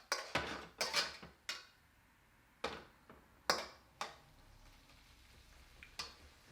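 Meat being stirred in a pot on a gas stove turned up full, with sharp metallic scrapes and knocks of a spoon against the pot at irregular intervals over a faint background.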